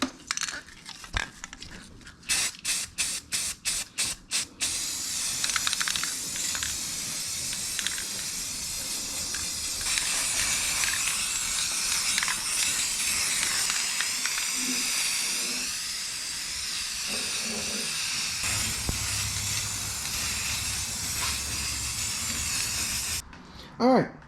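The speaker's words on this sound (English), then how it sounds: "this paint rust reformer works really good" An aerosol can of paint rust reformer sprays onto rusty metal in a long steady hiss, preceded by a series of rapid rattling shakes of the can, close and loud.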